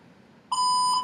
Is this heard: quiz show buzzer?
yes